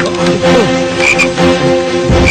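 Frogs croak loudly and continuously in overlapping, rhythmic calls close by, with no talk over them.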